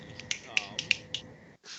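Finger snapping during a tabletop Dungeons & Dragons session, a string of about six sharp, fairly quiet snaps in an uneven rhythm. A faint voice murmurs underneath them.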